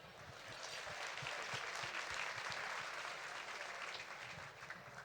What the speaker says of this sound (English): By round of applause, how was your lunch?